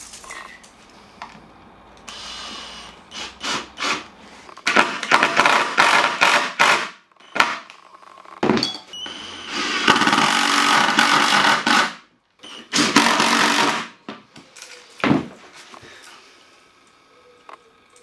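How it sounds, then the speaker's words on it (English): Drill driving a 35mm Forstner bit into a slab, heard as loud, close bursts of grinding and whirring that start and stop repeatedly, broken by brief pauses and occasional knocks. "drilling a 35mm hole with a Forstner bit"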